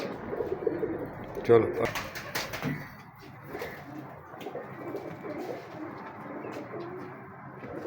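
Pigeons kept by a hobbyist coo softly and steadily at close range, mixed with rustling and brief handling noises, while someone speaks over them.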